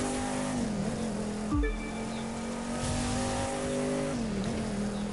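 A Shelby GT500 engine drones steadily through a rallycross race in The Crew 2, with a sharp downshift and rev blip partway through and the pitch rising and falling as the car powers along.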